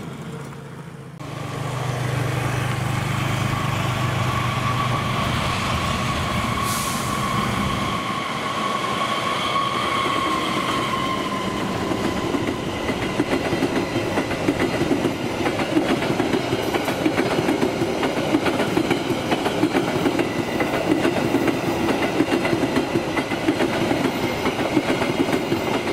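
Argo Bromo Anggrek passenger train rolls past near Cikarang with a loud sustained rumble and rail clatter, a horn-like tone early on, steady wheel noise continuing to the end.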